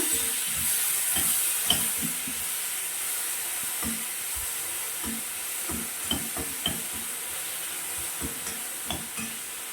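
Tomato and onion fry together in a pan, a quiet steady sizzle with a hiss, broken by soft knocks and scrapes of stirring.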